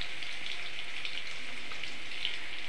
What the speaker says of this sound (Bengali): কিছুটা তেল গরম করে তাতে রসুন ফোড়ন দিয়ে রসুনটা প্রথমেই ভেজে নেব